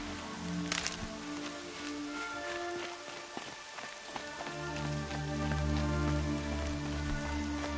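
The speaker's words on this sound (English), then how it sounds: "Rain's not so bad." Rain falls in the video game Horizon, a steady patter on surfaces with scattered droplet ticks, heard alongside low in-game ambience and a few footstep-like rustles, with no voices.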